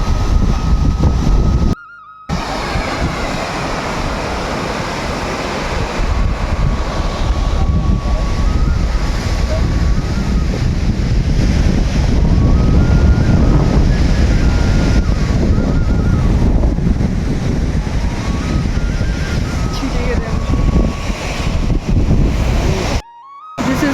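Spray and wind roar steadily at Vasudhara falls near Badrinath, a dense broadband rush of falling water and gusts buffeting the microphone, continuing for the whole span with two short dropouts.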